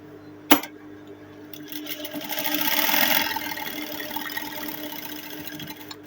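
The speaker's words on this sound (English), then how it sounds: "After doing that, the only thing we have to do now is to sew." A sewing machine stitches an Ankara fabric ball dress, a steady mechanical whirr that builds after a sharp click near the start and runs continuously to the end.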